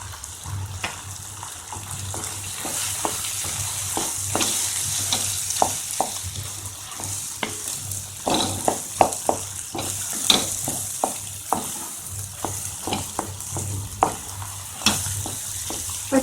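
Mashed potato and peas mixture being stirred and fried in a pan, a soft continuous sizzle punctuated by irregular spatula scrapes and taps, close and moderately quiet, no talking.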